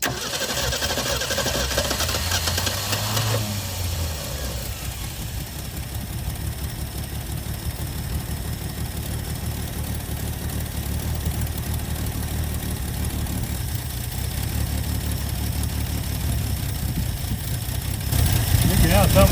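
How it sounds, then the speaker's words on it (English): A Ford Maverick's engine starts and settles into a steady idle, a continuous low rumble running throughout, with a brief voice near the start. "Mac, turn the engine on. Make sure it's in park"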